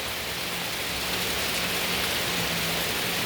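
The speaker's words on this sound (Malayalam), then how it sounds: "ഇന്നോല് സ്കൂൾക്ക് പോയപ്പോഴേ നല്ല മഴയാണ്." Heavy rain pours down outside a home in Kerala, a dense continuous hiss of downpour with no voices, steady and enveloping throughout.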